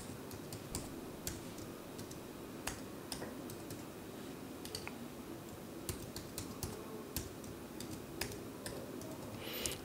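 Fast, light typing on a computer keyboard, with steady irregular clicks and taps over a quiet room hum and no voices.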